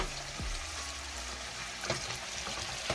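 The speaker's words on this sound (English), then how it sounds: "constantly stir it just like this so it doesn't get all the way cooked through" Food in a pan with plenty of butter keeps sizzling steadily while being stirred constantly, with a couple of brief utensil scrapes against the pan, close and fairly quiet, with no talking.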